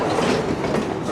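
A CSX switcher, the Y322 downtown spur and East Rail job in Miami, rolls along the main line, giving a steady close rumble with clickety-clack wheel noise and no talk.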